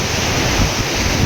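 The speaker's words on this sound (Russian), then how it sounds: "Море бушует." Stormy Black Sea surf and strong wind on the shore in December, a continuous loud roaring wash with heavy wind buffeting on the microphone, no voices.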